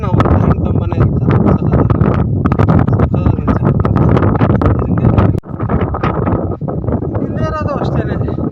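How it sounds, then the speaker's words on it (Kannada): Strong wind gusts blow across a high hilltop at Shivagange, buffeting the microphone with loud, continuous rumbling and rushing that dips briefly before returning, while a voice talks underneath. "ಇಷ್ಟು ಹೈಟಲ್ಲಿ ಇಷ್ಟು ಗಾಳಿ ಬೀಸ್ತಾ ಇರುತ್ತೆ"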